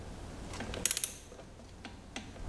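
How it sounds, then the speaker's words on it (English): A torque wrench ratchets on the drain plug of a transfer case on an Audi Q7 or similar VAG vehicle, a quick run of four close metallic clicks followed by softer clicks, with no voices. "grab your torque wrench and make sure that you torque your drain plug up to the proper specification"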